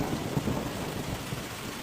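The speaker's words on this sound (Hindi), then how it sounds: "बिजली कड़कती है, भारी बारिश होती है।" Thunder rumbles low and continuous through heavy rain in a storm over farm fields, a dense steady roar with a few louder cracks and no voices.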